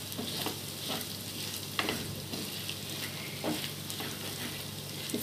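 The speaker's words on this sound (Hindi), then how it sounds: "इसको अच्छी तरह से फ्राई कर लीजिए।" Mutton frying in a pan, a steady low sizzle with occasional scraping stirs, fairly faint and close, with no talk over it.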